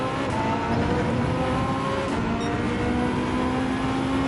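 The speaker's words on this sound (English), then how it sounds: "That whirling as you just come off throttle" A race car in Gran Turismo 7 played in VR coming off the throttle, its engine and drivetrain giving a continuous loud whirring drone with tire noise, steady throughout and with no speech.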